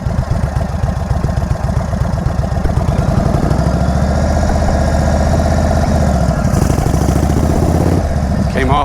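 Motorcycle engine running steadily at close range while the rider comes off the throttle, a continuous loud drone with slight shifts in pitch, voice present underneath.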